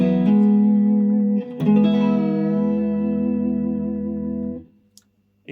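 A clean Stratocaster note with two pickups in phase rings out, bright and full with a touch of reverb, restruck once, then sustains and fades away.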